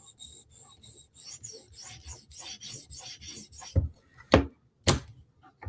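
A Spyderco knife is drawn across a sharpening stone in a run of rhythmic rasping strokes up close, followed by a few sharper, louder scrapes and knocks, with no talk.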